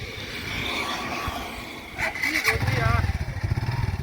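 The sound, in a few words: repaired motorcycle being ridden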